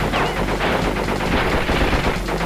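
Rapid gunfire from a plane or vehicle in Crash Bandicoot: Warped forms a dense, continuous, loud burst of shots that runs steadily through the whole short stretch.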